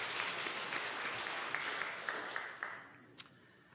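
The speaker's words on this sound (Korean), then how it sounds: "박수 한번 해봅시다." A church congregation applauds together, a dense steady wash of clapping at moderate distance that thins and fades out toward the end, with a few sharper isolated claps standing out.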